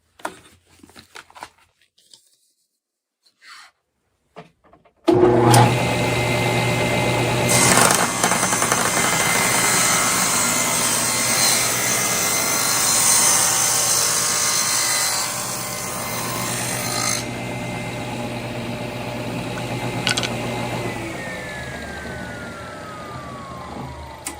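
A table saw cuts a wooden workpiece with a loud, sustained whine. The motor spins up sharply after a few quiet seconds, the pitch shifts as the blade bites the wood, and the whine winds down at the end.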